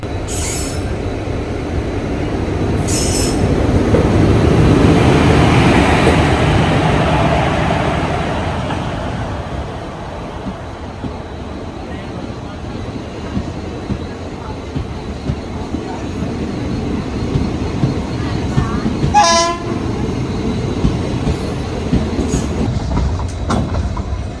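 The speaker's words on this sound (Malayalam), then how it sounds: "മയിലാടുതുറയിൽ നിന്ന് ചെങ്കോട്ട വരെ വരുന്ന ഒരു അൺറിസേർഡ് ഫുള്ളി ജനറൽ ആയിട്ടുള്ളൊരു എക്സ്പ്രസ് ട്രെയിനാണ്" An unreserved, fully general-class express train running from Mayiladuthurai to Sengottai, its wheels squealing and carriages rumbling steadily throughout, with a louder swell early on and a sharp high squeal near the end.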